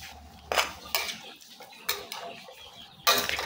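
A handful of metal ladle knocks and scrapes against a pot while a coconut milk stew of seeded breadfruit and crab is stirred slowly, four distinct clanks spaced apart, close and fairly loud with no talking.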